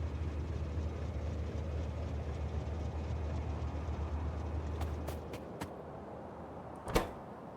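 A train in the video game Factorio rumbles steadily in low tones, then fades away, followed by a few light clicks and one sharp clack.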